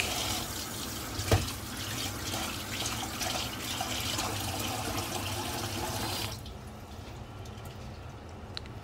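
Basmati rice is washed in a bowl: water runs steadily from a tap, sloshing as grains are stirred, then the flow cuts off, leaving faint drips and quiet swishing.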